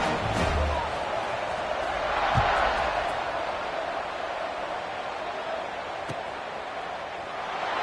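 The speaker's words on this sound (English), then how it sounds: "this crowd is buzzing after that last score" A stadium crowd at a football game keeps up a steady, distant roar and murmur for several seconds, with a broadcast commentator talking over it.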